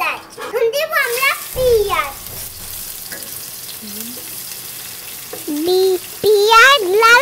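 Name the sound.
onions frying in oil with cinnamon and cardamom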